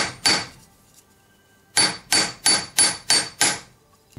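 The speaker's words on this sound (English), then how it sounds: "hammer it back to the same thickness, and then you can tap the sides again" A metal ring for a crossover basket solitaire ring is hammered to thicken it: one sharp metallic strike, a pause, then six quick, evenly spaced ringing blows, close and loud.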